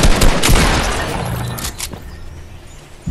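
A short loud volley of gunfire from the video game Fortnite, sharp cracks and a booming crash in the first second or so that fade into quieter clatter.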